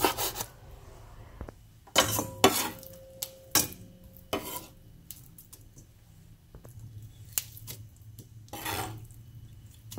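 A knife chopping soft fish meat into small pieces on a board, a close series of sharp, irregular chops and scraping strokes, alone with no talk.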